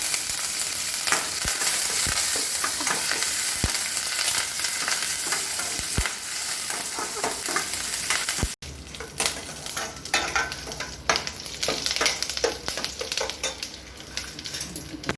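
Dried red chilies and curry leaves sauté in hot oil with a dense, crackling sizzle, then the sound abruptly drops to a quieter hiss with scattered clicks and scrapes from stirring, with no talking.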